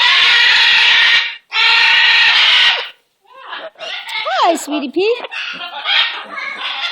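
A pet bird calls with several chirpy, warbling whistles over a couple of seconds, heard close up while someone talks to it affectionately; loud bursts of broadband noise come before the calls.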